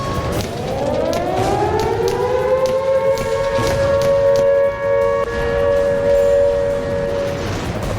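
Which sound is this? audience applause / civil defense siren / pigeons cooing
civil defense siren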